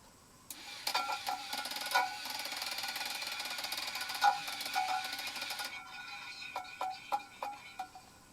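A K'NEX plastic turntable spins unsteadily, giving off a dense, fairly loud run of rapid ratcheting clacks that later break into separate sharp clicks. No talking.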